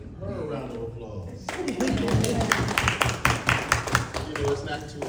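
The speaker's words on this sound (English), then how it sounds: "And let's give her a round of applause." Audience clapping breaks out at a youth speaking event, rising from a speaking voice into a dense burst of applause with sharp individual claps that carries to the end.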